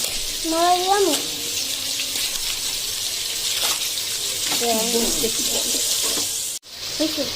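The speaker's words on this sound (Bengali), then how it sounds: "সামান্য পরিমাণে একটু পানি দিব" A small amount of water is poured into biryani masala cooking in a pot, giving a steady hiss with sizzling underneath and a few brief voice fragments.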